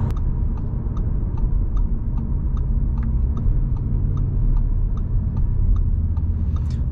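Audi RS3 sedan, 400 hp five-cylinder, pulling hard under acceleration: a steady, dense low engine drone fills the cabin throughout, overlaid by a regular light ticking pulse, with no talk.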